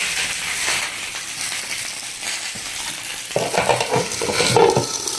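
Sausages browning on high heat in a pan, a loud, steady frying sizzle that holds throughout with scraping stir sounds and a few clinks toward the end.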